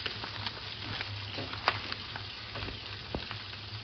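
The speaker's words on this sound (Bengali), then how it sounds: "এবার শুটকি সহ রসুন মুই 3-4 মিনিট ভাইজা নিমু।" Dried fish (shutki) and garlic frying in a pan of hot oil, a steady soft sizzle with faint crackles and the occasional pop or stir close by, with no talking.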